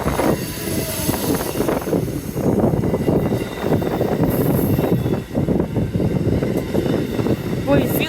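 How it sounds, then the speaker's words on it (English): An Amtrak Northeast Regional train rushes past Kingston station in Rhode Island, a loud, steady roar of wheels and rail noise filling the whole stretch, with people talking over it. "There is the Northeast Regional."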